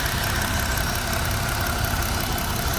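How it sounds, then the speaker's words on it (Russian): A Jeep Wrangler Rubicon JL's old Pentastar V6 engine idles steadily and evenly up close, a continuous low rumble with a faint mechanical ticking, no voices. "Вот так работает двигатель."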